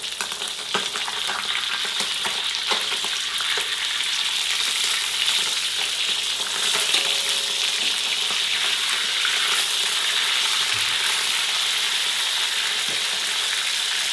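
Dried milkfish (daing na bangus) frying in hot oil gives a loud, continuous crackling sizzle with a dense, steady hiss and no voices.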